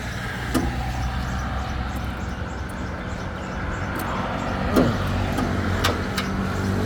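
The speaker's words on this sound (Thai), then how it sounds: "เดี๋ยวเราไปเล่น ลองสตาร์ทเครื่องยนต์ดู" A 2016 Kubota B2440 compact tractor fitted with a grass-cutting blade runs its engine at a steady idle, a close, even low hum with a brief mechanical whine partway through and a few light clicks.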